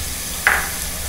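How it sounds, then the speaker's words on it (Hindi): Meat and tomato drop into garlic and ginger frying in a pan, a sudden brief burst of sizzle over a steady hiss of hot oil. "लहसुन अदरक भी हमारा अच्छी तरह से भून चुका है, मैं इसमें डाल देती हूँ ये गोश्त"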